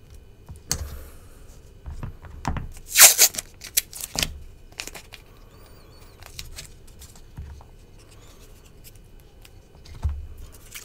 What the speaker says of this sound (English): Let's go ahead and tape up some more of that blade.